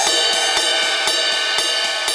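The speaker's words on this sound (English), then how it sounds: "you're going to be leading off with the tip of the ride and then the bell" Ride cymbal played close, leading with the tip and then the bell, giving a bright sustained wash with regular accented pings roughly every quarter second and faint low kick thumps beneath.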